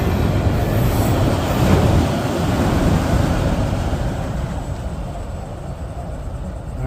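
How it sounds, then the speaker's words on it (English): A train hauled by a single locomotive rolls past steadily and close, a broad continuous rumble of wheels on rail that stays loud throughout before easing slightly toward the end. "just a single locomotive on it."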